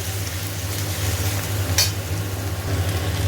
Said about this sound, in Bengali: সব সবজি দিয়ে দিয়েছি পেঁয়াজও দিয়ে দিয়েছি এবার আরেকটু এটা ভাজা হবে সামান্য